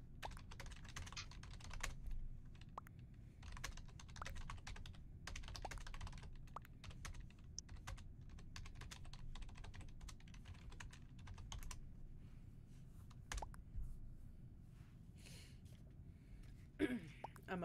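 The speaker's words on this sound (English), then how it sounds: "I don't know if you guys can hear my typing, by the way." Rapid, irregular clicking of typing on a computer keyboard, close and continuous, with pauses, under a gaming session with occasional voice sounds.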